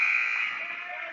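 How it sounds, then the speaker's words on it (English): Hockey arena buzzer sounding at the end of the first period of a youth 16U game, a loud sustained electronic blare holding steady for just over a second on its own. "that is the sound of the buzzer at the end of the first"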